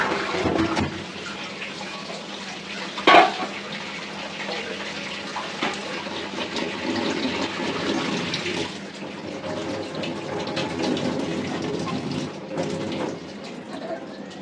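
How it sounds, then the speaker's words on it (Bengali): Running tap water pours and splashes steadily as sweet pineapples are washed, a continuous gushing rush with brief handling knocks, and a voice speaks faintly in the background. "আনারসগুলো প্রচুর মিষ্টি, ভালোভাবে ধুয়ে তারপরে কাটবো"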